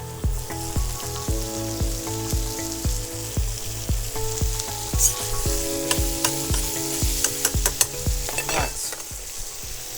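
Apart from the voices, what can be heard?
penne with avocado sizzling and stirred in hot pan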